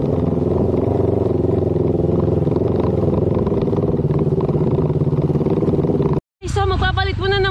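Motorcycles on an off-road practice track at Kinapuin, part of a CF Moto team, drone loudly and steadily for about six seconds, a continuous engine roar with clattering, then a brief dropout before a higher revving engine returns.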